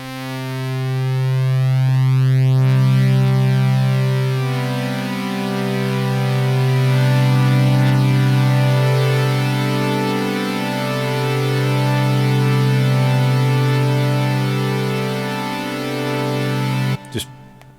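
Behringer PolyD analog synth held as sustained, rich chord pads, slowly shifting from one chord to the next with a steady, buzzy tone, ending in a brief click.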